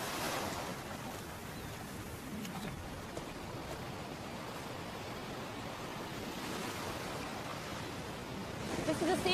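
Rough, stormy sea surf washing up on an Arctic shore where walruses live, a steady loud roar of breaking waves mixed with wind buffeting the microphone, swelling slightly toward the end, with a brief narrating voice over it.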